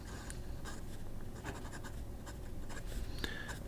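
A Jinhao fountain pen scratches softly across paper in quick, irregular strokes. The sound is close, quiet and continuous, with no talking.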